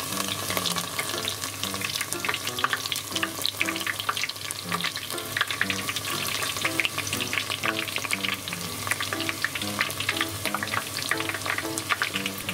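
Onion ring batter crackles steadily in hot deep-frying oil, a dense continuous sizzle with busy popping bubbles; no one talks.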